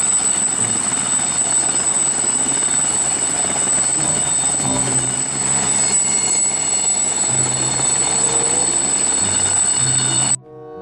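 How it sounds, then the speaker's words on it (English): Steady loud rotor and engine roar of a helicopter, continuous throughout with a high whine on top, cutting off abruptly at the end. "Helicopter."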